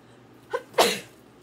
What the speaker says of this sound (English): I could sneeze.